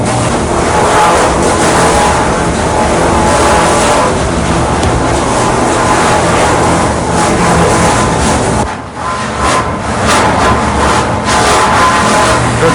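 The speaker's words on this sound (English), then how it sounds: "Here, this is the debarking station." A log debarking station at a cedar shingle mill runs with a loud, dense roar of grinding and rumbling machinery. The noise holds nearly constant, with a brief lull about two-thirds of the way through.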